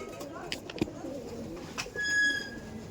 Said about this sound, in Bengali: এই যে ফিমেল পায়রা আছে আর এই ফিমেলের রুম আছে